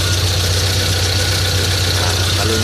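A Proton Wira car engine idles steadily during an alternator check, giving a loud, even, continuous low rumble with a constant mechanical hum and no revving.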